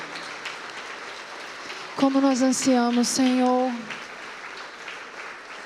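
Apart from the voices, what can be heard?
congregation applauding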